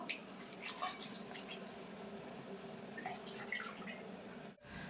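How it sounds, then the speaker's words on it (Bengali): Milk is poured into water in a pan for a milk and sago sherbet, producing a faint, soft trickle with light drips that ends in a brief dip. "তো আমি এই জলের ভিতর দুধটা ঢেলে দেবো"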